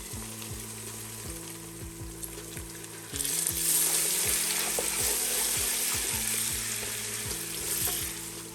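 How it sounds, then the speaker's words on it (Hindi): Loud, steady sizzling of garlic-ginger paste frying in hot oil, with repeated scrapes of a spoon stirring the pan, the sizzle swelling midway. "लहसुन अदरक का पेस्ट भी फ्राई हो गया"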